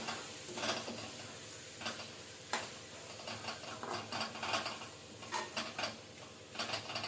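A spatula stirs spice mix through vangi bath in a pan, producing scraping, rustling strokes with soft clinks against the metal, rhythmic and close, under a faint background hum.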